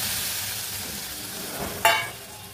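Shrimp paste made from prawn heads and tails hits a pan with very little oil, giving a steady soft sizzle with a brief sharper crackling flare partway through, heard alone.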